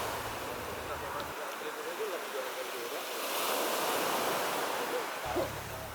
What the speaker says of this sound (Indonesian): hanya suara ombak yang menemani